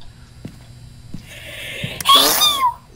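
A sharp, close sneeze rises out of quiet room noise with a short intake before the loud burst, and there is no talking during it.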